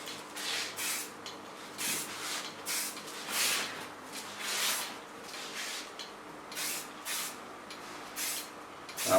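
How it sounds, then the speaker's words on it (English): Short repeated bursts of Lanza hairspray misted onto a freshly colored, volumized pixie cut in a salon, a dozen or so soft hissing puffs in an uneven rhythm, close and moderately quiet, with no talking. "Take a little bit Lanza hairspray, not too much."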